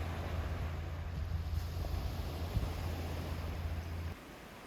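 Waves washing onto a broad, shallow sandy beach on a west coast shoreline, a steady wide hiss of surf mixed with wind rumble against the microphone, continuous and fairly loud, easing slightly near the end.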